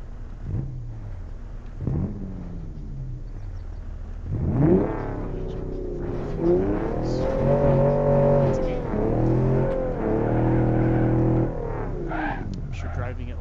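BeamNG.drive vehicle engine revving up and down in rising and falling sweeps, moderately loud, with someone talking over it.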